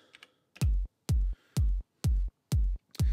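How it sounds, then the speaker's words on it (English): Detuned kick drum from an Elektron Digitakt techno pattern, six loud, boomy hits spaced evenly at about two per second, each with a sharp attack and a deep decaying low end, alone with no talk. "So the kick sounds like this."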